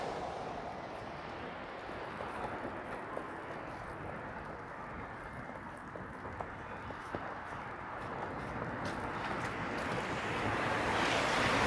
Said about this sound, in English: it looks like the wind is blowing directly at me